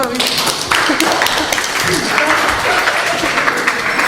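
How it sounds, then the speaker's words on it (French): An audience at a French talent-show style audition applauds in dense, sustained clapping, loud and close, with voices mixed in beneath. "applaudissez-le"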